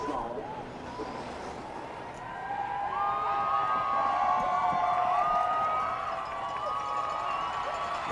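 A crowd at a Paralympic alpine skiing race at Vancouver 2010 cheers from below the course, a broad swelling roar mixed with horns and whistles under a commentator's voice.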